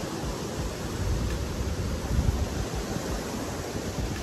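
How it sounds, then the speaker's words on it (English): Strong wind buffets a geodesic dome tent at a getaway in Uruguay, a steady loud broadband roar with gusty swells, heard from inside and no talking. "So all these wind noises you can hear really clearly."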